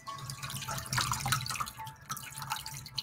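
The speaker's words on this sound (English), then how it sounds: "You're gonna see dripping or running." A marbled scarf lifted out of an acrylic paint bath on water drips and runs, giving a quiet patter of scattered drops and trickles close by.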